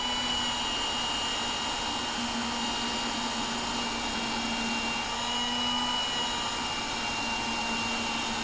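A cordless drill spins a part of a 97-year-old Reed vise during restoration while it is filed flat, producing a continuous, even whine with a faint scraping hiss, steady and close throughout.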